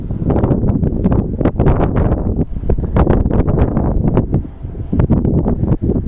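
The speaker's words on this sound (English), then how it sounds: "I'm gonna have to get out of this wind." Strong wind gusts across a lake during a bass fishing outing, a loud, constant low rumble buffeting close to the microphone with uneven surges and no voices.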